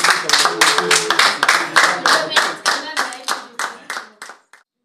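Rhythmic hand clapping from an audience at a ceremony in the Matadi town hall. Close and steady at first, the beats gradually weaken and space out before fading to silence.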